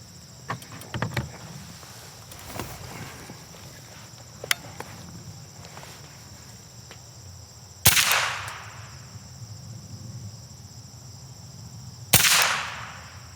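Two sharp rifle shots from a Remington 552 Speedmaster, several seconds apart, each a loud crack with a short fading tail, over faint outdoor insect chirping and scattered small knocks.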